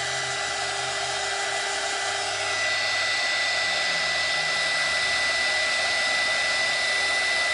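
Hair dryer blowing steadily on wet paint on a heart artwork, a constant close whirring hiss with a faint tonal whine, running alone without a break.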